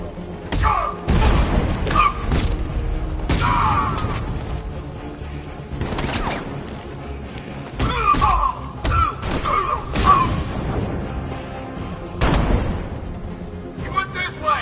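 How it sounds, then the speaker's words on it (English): Grenade blasts and scattered gunfire in the Batman: Arkham Knight video game, with heavy thumping booms recurring through the scene while voices shout over the chaos. "Grenade!"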